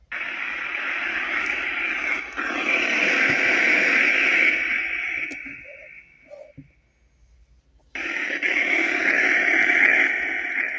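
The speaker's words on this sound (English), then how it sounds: "Can you guys speak through on the white noise?" A spirit box app plays white noise with echo and reverb: a hissing, radio-like static that drops out briefly near the middle, then comes back at full strength.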